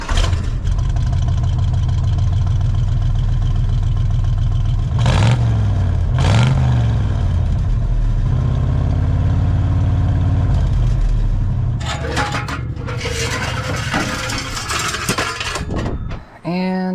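Car engine idling through its current temporary exhaust, a steady low rumble that swells in a couple of brief revs, with clinks and rattles near the end.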